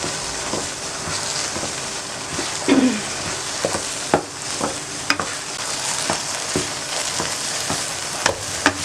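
Bread halwa roasts in ghee in a pan under constant stirring: a continuous loud frying hiss with regular spoon scrapes and taps against the pan.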